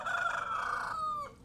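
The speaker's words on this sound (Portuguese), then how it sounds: "O galo tá cantando." A rooster crows in a rural yard during the afternoon, one drawn-out call from a short distance, fading at the end, with no talk over it.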